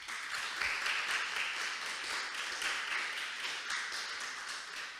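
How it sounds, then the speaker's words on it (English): Audience applause for conference presenters, a sustained patter of many hands clapping at moderate level, fairly steady for several seconds with no talk. "I just wanted us to have another round of applause for all the presenters"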